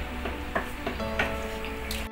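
A spoon stirs pasta sauce in a pan, giving soft scraping and light clinks at an uneven rhythm over a low steady background hiss, with no voices.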